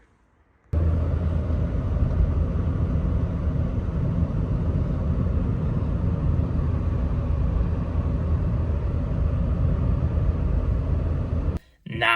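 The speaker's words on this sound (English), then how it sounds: "Now driving the Renault Twingo with all of its mighty power." A Renault Twingo 2 being driven, its steady low engine and road rumble droning evenly from the cabin for about eleven seconds before cutting off briefly near the end.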